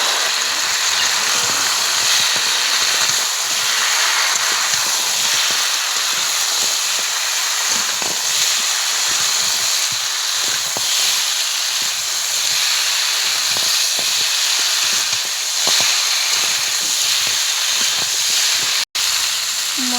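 Fried cauliflower and other vegetables cook with spices in oil in a pan, giving a continuous loud sizzling hiss with faint stirring ticks, and no one speaks.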